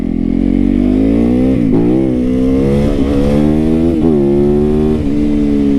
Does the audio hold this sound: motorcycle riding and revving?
yes